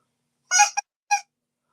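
A goose honks close by in three short, harsh calls: a longer double honk followed by a single honk after a brief pause, with silence around them.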